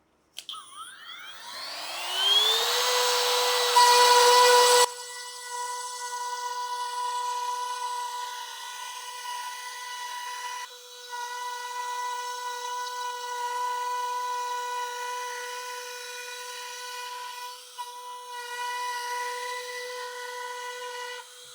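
A Parkside PPFBSA 12 B2 12V precision sander-grinder running with a bit fitted: a whining spin-up rising into a steady, loud high-pitched drone that holds for a long stretch with brief dips.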